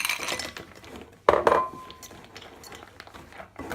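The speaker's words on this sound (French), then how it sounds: "Je rajoute des glaçons." Ice cubes drop into water in a bowl while making zucchini flower fritter batter, a single bright clink and rattle close by, then fading into quiet room sound.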